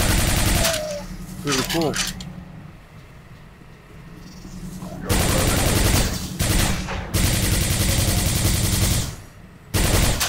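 Rapid automatic rifle fire in the shooter Quake 4 rattles in loud, dense bursts, broken by quieter stretches and brief pauses, with a voice talking briefly during one lull.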